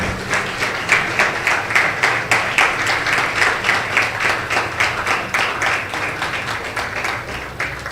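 Steady clapping from a crowd at a college convocation ceremony fills the space, dense and continuous with a rapid uneven rhythm, moderately loud throughout.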